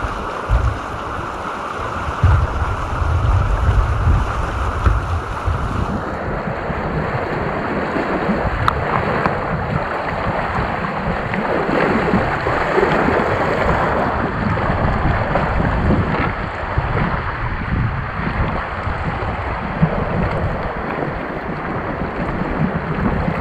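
A kayak paddling on the Rio Grande, with continuous rushing water and lapping against the hull under heavy wind buffeting on the microphone, close and loud, with no talking.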